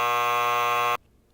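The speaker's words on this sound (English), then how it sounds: "Oh, there's the final question buzzer." Final question buzzer in an Everglades quiz: a single loud, harsh electronic buzz held for about a second, then cut off abruptly into near silence.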